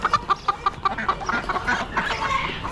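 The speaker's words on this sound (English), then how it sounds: "More hens." Hens at an Amish animal auction, clucking in quick repeated bursts close by over a busy background of other fowl.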